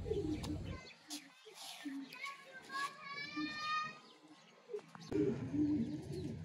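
Pigeons, including a male cross-breed and a Zeera breed female, coo softly in a series of low calls, with children and someone talking loudly before and after.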